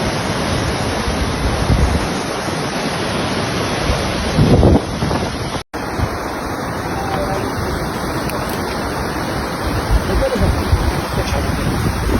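A flooding river that has burst its left bank near the Latigel neighborhood of Cosenza makes a steady, dense roar, with wind buffeting the microphone. There is a brief dropout partway through.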